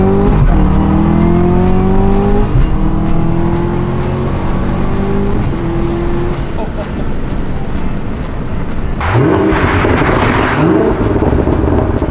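A twin-turbo Nissan 350Z fitted with a Q60 engine revs and crackles with exhaust pops, loud and close amid heavy wind noise, while people talk over it.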